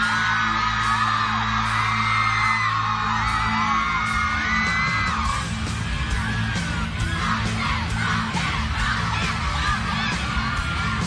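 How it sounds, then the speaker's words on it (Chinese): An audience at a New Year's Eve televised magic show screams, whoops and yells loudly and continuously, a dense, excited crowd roar that swells with overlapping shrieks throughout. "这个魔术有没有成功，就从他们的尖叫声就会知道了。"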